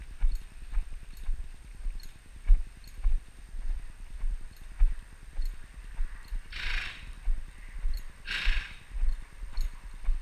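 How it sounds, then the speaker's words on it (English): A horse named Buck works along the rail in a training session, with two brief, breathy snorts rising over a steady, soft patter of hoofbeats close by. "Usually when he snorts at me, I know he's working hard."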